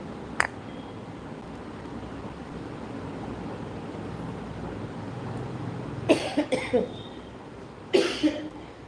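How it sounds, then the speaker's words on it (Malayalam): Two bursts of coughing from one person, the first around the sixth second as a cluster of quick coughs and the second a moment later, close and fairly loud over a quiet room hiss, with a faint click near the start. "എനിക്ക് ചുമ വരുന്നു"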